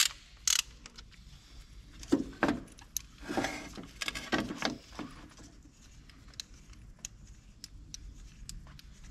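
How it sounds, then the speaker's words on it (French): A ratchet with a 21 socket loosens a spark plug on a VW Golf 3 or 4 cabriolet, giving a few close clicking and clunking bursts of metal on metal before settling into quieter, scattered ticks. "Donc vous allez desserrer la bougie."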